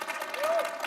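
Keynote audience at a satellite industry general session clapping in a brief, steady burst of applause, with a faint tone drifting through the middle.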